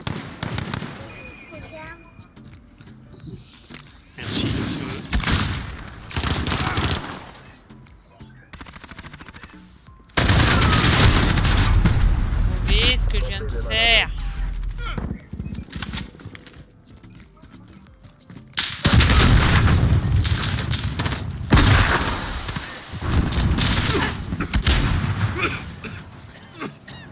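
Video game gunfire comes in loud bursts of rapid shots separated by quieter gaps, close and harsh, with people talking over parts of it.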